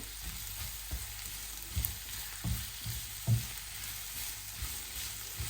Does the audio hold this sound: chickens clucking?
no